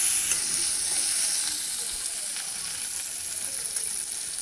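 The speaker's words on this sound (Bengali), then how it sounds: "আলুটা ভাজতেছে" Boiled potatoes fry in a pan, giving a steady bright sizzle and hiss that carries evenly from start to finish with no talking.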